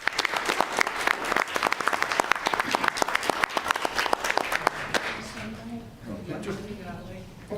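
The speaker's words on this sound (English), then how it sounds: "One more round of applause." An audience at a city commission meeting applauds with dense, steady clapping for about five seconds, then the applause thins out as voices and chatter rise nearby.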